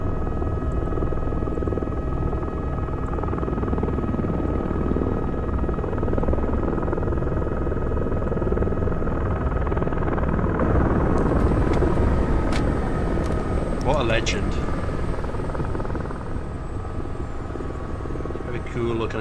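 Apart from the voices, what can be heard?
helicopter flying in the video game Squad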